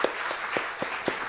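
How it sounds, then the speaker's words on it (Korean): A church congregation claps in a slow, loose rhythm, four or five distinct hand claps spaced evenly over a second, fairly close and moderately loud against a soft room background. "우리 박수 한번 쳤으면 좋겠습니다."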